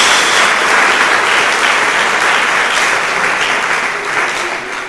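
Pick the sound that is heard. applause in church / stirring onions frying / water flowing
applause in church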